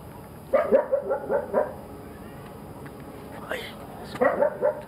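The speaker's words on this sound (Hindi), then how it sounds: "मुसलसल आसपास से कुत्तों की आवाज़ें आ रही हो सकता है ये हमें देख के भौंक रहे हो शायद" Several dogs bark in quick repeated bursts, a cluster early on and another near the end, moderately close over a low outdoor background hum.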